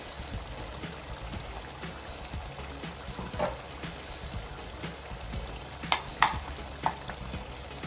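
Masala paste frying for mutton keema curry over a medium flame gives a continuous close sizzle, with a few louder spatters and pops toward the end and no talking.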